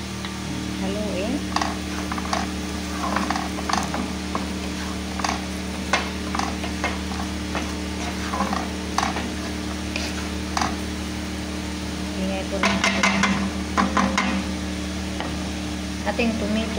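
A pan of tomato sauce for meatless home spaghetti is stirred over heat, giving a steady sizzle with scattered scraping and clinking strokes from a utensil throughout, and a busier burst of stirring near the end.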